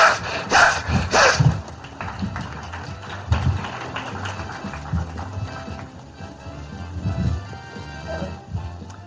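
Rhythmic sawing strokes, apparently wood being sawn, as part of a ventriloquist act at a ventriloquism convention, loud and close with a steady back-and-forth rhythm and audience noise in the background.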